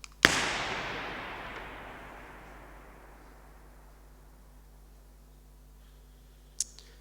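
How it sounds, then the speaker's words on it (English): A single sharp impulse fires in York Minster cathedral and its reverberation rings out for several seconds, decaying slowly and smoothly through the vast stone space before a brief click near the end. "the acoustic fingerprint of York Minster"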